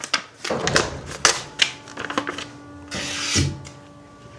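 A freshly sharpened knife slices through paper in a cutting test, giving several quick, crisp rasping strokes and scrapes close up, with short pauses between cuts.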